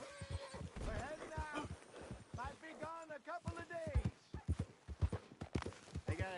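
A horse in a video game clops its hooves and whinnies, with someone speaking calmly to it over the steady near hoofbeats and neighs.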